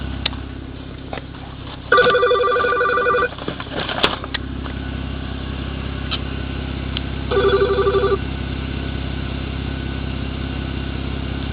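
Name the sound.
phone ringing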